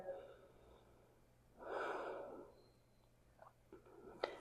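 A slow, audible breath during a seated yoga twist, a soft airy inhale swelling in the middle and tapering off, close and quiet, followed by faint small breathy sounds.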